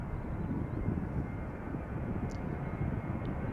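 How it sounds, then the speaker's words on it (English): KLM Boeing 777-200 airliner at Schiphol Airport, a loud steady roar of jet engines with broad low rumble and wind buffeting, continuous and without talk. "that is KLM flight 861, the 777 to Narita"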